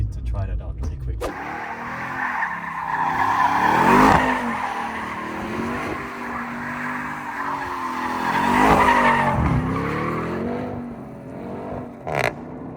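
A 700HP rear-wheel-drive drift truck slides across a wet skid pad, its tires skidding and squealing in long, loud swells while the engine roars beneath. A voice talks over the noise.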